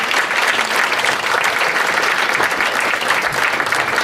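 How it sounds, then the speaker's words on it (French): Audience at an association evening applauding the association's vice-president, a dense steady round of clapping from a full room, loud and continuous throughout. "Pierre Chenu, que je vous demande d'applaudir."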